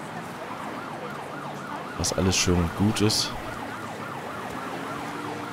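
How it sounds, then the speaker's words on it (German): Wailing sirens rise and fall continuously in the Mafia 3 video game, moderately loud and steady throughout, with a voice talking briefly over them midway. "Sirenen?"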